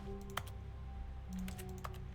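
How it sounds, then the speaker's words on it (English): Keyboard key-press clicks triggered by mouse clicks in The Stanley Parable: Ultra Deluxe video game, a few quick close taps scattered over a faint steady hum, no talking. "whenever I click, it makes the sound of a keyboard pressing buttons"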